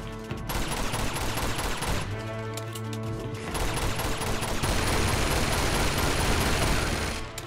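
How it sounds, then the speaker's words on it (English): Sustained gunfire from small bullets in Uncharted 2 on the PS4 remaster, dense overlapping shots and clattering bursts that carry on nearly unbroken, loud and close throughout. "now I can shoot a bunch of small bullets at him"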